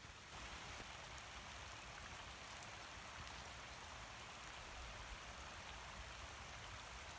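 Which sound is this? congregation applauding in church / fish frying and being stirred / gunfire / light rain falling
light rain falling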